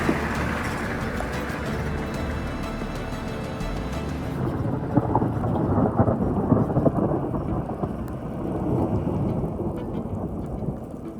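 A thunderstorm in the Turkish countryside: deep rolling thunder rumbles over steady falling rain, the rumble swelling midway and lingering, with no voices.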